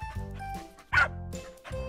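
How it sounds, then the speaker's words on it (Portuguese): A cartoon puppy gives a few short, high yipping barks close up, bursting out in quick succession with brief pauses between them. "É um cachorrinho super fofo!"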